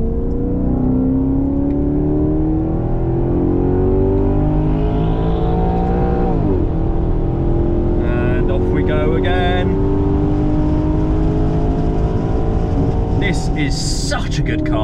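A Maserati Quattroporte sedan laps the Nurburgring, its engine droning in a steady, loud rising pitch that climbs through the gears, with a brief shift dip midway and faint wind and tire noise on top.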